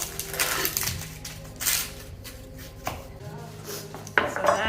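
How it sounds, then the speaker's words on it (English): Repeated knife strikes against a cutting board while chopping vegetables for jollof rice, mixed with clinking of utensils and dishes, irregular and close. "Let me start chopping the other ones."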